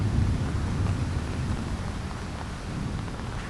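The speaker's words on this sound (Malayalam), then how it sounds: "മഴയാണെങ്കിൽ നല്ല രീതിയിൽ വരുന്നുണ്ട്." Heavy rain pours down in a dense, continuous hiss with a deep rumbling undertone, steady and loud from start to finish with no voices.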